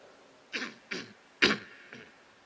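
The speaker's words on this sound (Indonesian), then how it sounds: "Mohon maaf agak-agak batuk." Four short, dry coughs spaced about half a second apart, fairly close, with quiet background between them.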